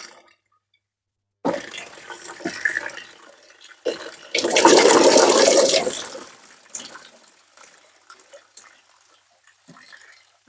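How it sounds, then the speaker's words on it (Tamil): Gooseberries are washed in a vessel of water, heard as splashing and sloshing in uneven bursts, with a louder sustained pour-like surge midway, close to the microphone and with no talking. "நெல்லிக்காயை போட்டு கழுவி எடுத்துக்கிடுவோம் தண்ணியில் சுத்தமாக."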